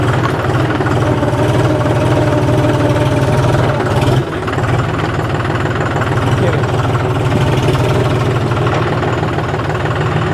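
John Deere 5050D Gear Pro 4WD tractor engine running steadily while the tractor turns, a loud continuous diesel drone with a brief dip midway, with someone talking over it.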